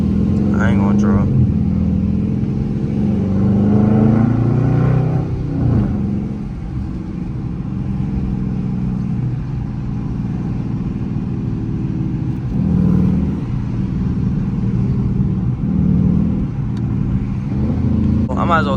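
Dodge Charger R/T V8 engine cruising through city streets in the early morning, its low, steady rumble swelling in a few revs and easing off, loud and close throughout.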